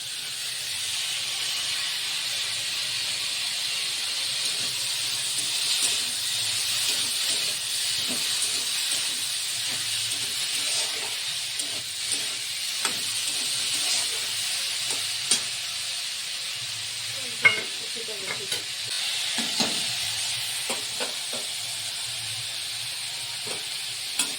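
Sour okra goes into a hot pan and sizzles with a steady hiss, broken by irregular stirring scrapes and a sharp clatter, close-up with no talk.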